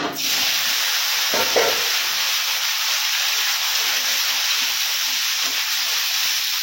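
Cauliflower florets frying in hot oil in a kadai after fish, giving a steady close, loud sizzling hiss throughout with a couple of brief low knocks near the start.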